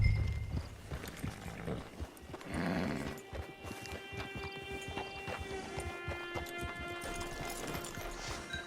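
Horse hooves clip-clop in Red Dead Online, a steady rhythmic trot of soft thuds that continues throughout beneath background music, with a brief whinny-like swell early on.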